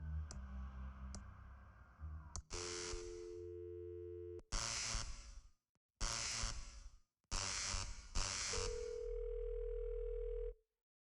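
Telephone line tones from the Thimbleweed Park video game: several long steady tone bursts separated by short gaps after a few light clicks, loud and close with no talking.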